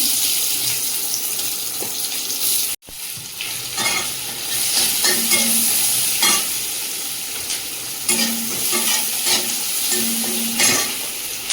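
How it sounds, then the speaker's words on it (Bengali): Chopped onion and panch phoron fry in hot oil, sizzling steadily with bursts of spoon stirring. Running tap water is heard now and then, with one brief clunk near the start. "পাঁচফোড়ন দিয়ে দেবো পেঁয়াজ কুচি"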